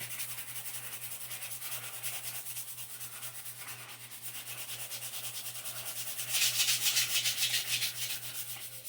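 A Sakura katana is sanded with 120-grit sandpaper in steady, close, rhythmic back-and-forth rasping strokes that grow louder and more rapid toward the end.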